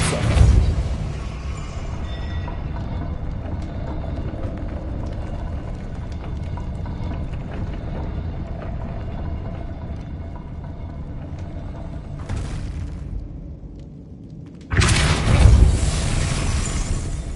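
Spell-casting blasts from the Hogwarts Legacy video game: a long, dense rumbling whoosh runs under steady game ambience, then a brief mid-clip burst, a short dip, and a loud booming impact near the end.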